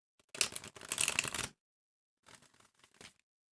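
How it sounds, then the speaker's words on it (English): Two bursts of crisp, papery tarot card riffling, a long one then a shorter, choppier one after a brief pause, close up with no voices. "One more shuffle."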